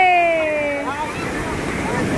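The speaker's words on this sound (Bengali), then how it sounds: "কিরকম ঢেউ এসছে।" Sea waves break on Puri beach, a broad rushing surf wash over wind noise, preceded by tonal voice sounds fading out at the start.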